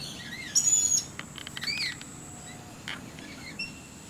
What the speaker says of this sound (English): There are about 40 birds in the flock